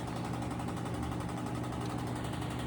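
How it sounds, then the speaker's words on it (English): A running washing machine gives off a steady, continuous droning hum with a low rumbling throb underneath, fairly close and unbroken throughout. "a lot of y'all's 338 I sounds a lot like this washing machine here"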